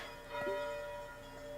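Church bells ring at 8 o'clock as a tribute to health workers during COVID, heard as a faint, distant, sustained tolling tone.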